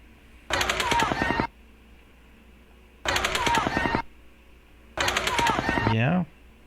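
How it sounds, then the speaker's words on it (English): Automatic gunfire recorded during the Las Vegas shooting comes in three sustained bursts of about a second each, separated by pauses. Muzzle blasts mix with thin, tinny supersonic cracks, loud but not very close. "the muzzle blast, a little bit louder, and the supersonic cracks sound a little tinny and not real close"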